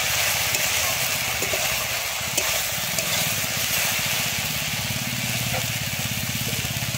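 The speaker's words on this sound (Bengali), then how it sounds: "আমি সজনে ফুলটা কিন্তু আবারও একবার ভালোভাবে নেড়ে নেব।" Drumstick flowers stir-frying in a pan give a steady, dense sizzle throughout, with soft rhythmic scraping from stirring and a low humming rumble beneath.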